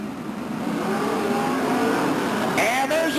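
Stock cars accelerate together at a green flag restart at Stockton's oval track in 1999, a dense, rising engine roar heard from a distance while an announcer talks over it.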